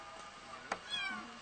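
A cat gives one short meow, then a fainter drawn-out cry, heard on a pilgrimage walk to Talpa over a steady background hiss, fairly close and without talk.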